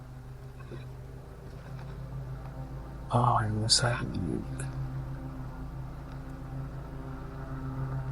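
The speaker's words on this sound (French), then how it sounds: "On entend le tracteur tondeuse du voisin." A riding lawn mower engine drones steadily and low throughout, with a brief burst of nearby speech and clatter in the middle.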